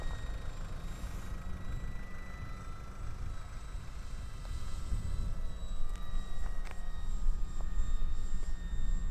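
A 1200mm GeeBee RC plane on its maiden flight at half throttle gives a thin, steady whine, faint and distant over a low wind rumble that swells slightly toward the end.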